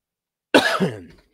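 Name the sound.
cough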